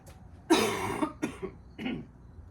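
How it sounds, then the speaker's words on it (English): A single forceful cough followed by two smaller, softer coughs, close and clear with no talking. "I have to cough."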